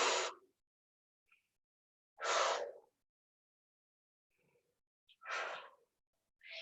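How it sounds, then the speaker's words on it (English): Loud, forceful breaths during a home HIIT workout: four sharp exhalations spaced about every two seconds, close to the microphone, with faint quieter inhales between them and no talking. "I breathe loudly because that helps you to engage your core and your abs"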